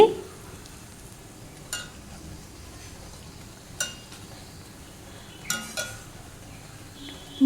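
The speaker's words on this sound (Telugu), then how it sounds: "అన్నీ ఈవెన్గా ఫ్రై అయ్యేటట్టు తిప్పుకుంటూ ఉండాలి" Crispy bonda deep-frying in oil gives a faint, steady bubbling sizzle, broken by a few sharp clinks of a utensil as the pieces are turned.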